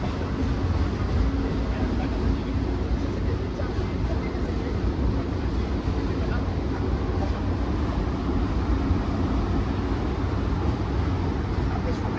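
A long CSX freight train rumbles steadily past Takoma Metro Station in Washington DC, a dense, continuous low roar of rolling wagons that holds at a constant loudness from start to finish.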